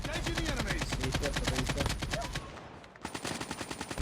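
Rapid automatic gunfire in a video game, steady fast rhythmic bursts that stop abruptly and then resume after a short pause, loud and close.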